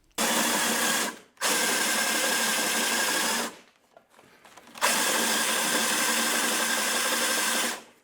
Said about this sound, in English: it looks like we got those 5 drilled, hopefully far enough